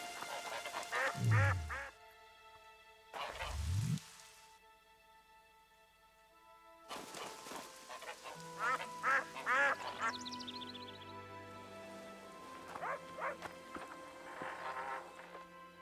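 Several loud, close duck quacks come from The Witcher 2 video game, some arriving in bursts and some as single calls, heard alongside other game effects and a stretch of music.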